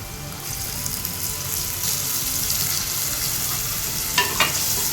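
Tomato paste sautés for Tamil-style prawn thokku with a steady, close hiss and sizzle, and faint stirring scrapes near the end.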